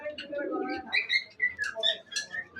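Mukhi pigeon cooing among other birds in a collection, with soft coos mixed with chirps and whistles close by and a person talking in the background.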